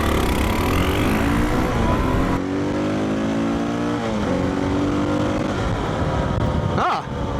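A dual sport motorcycle engine revs hard from a standing start, loud and close, with the pitch climbing and stepping through gears before easing near the end.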